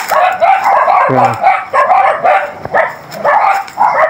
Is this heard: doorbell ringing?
no